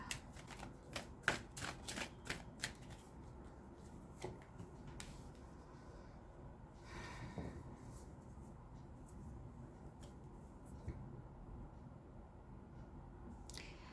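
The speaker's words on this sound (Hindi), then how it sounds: "let me take more cards to understand" Tarot cards are shuffled and drawn, with a run of crisp, close riffling snaps at the start, then scattered soft card flicks and slides over quiet room tone.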